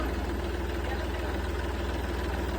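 A New Holland tractor engine idles steadily and close by, a constant low rumble that holds level without revving throughout.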